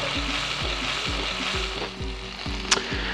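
Garlic and tomatoes fry in olive oil and animal fat in a pan, a steady close sizzle with soft rhythmic stirring scrapes every half second and a brief clink near the end.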